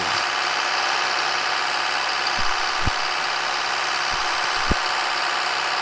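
A small 98-horsepower tractor in a video game labors under a heavy pull, its engine a steady, droning hum with faint low knocks now and then, continuous and alone.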